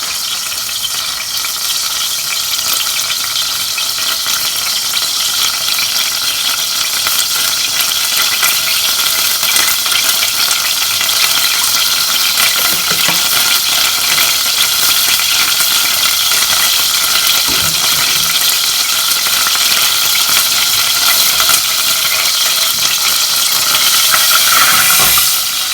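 Butter melting and sizzling in a pan as the base for a cheese sauce for a homemade chicken and mushroom pie, a steady loud hiss and crackle running on throughout with no talk.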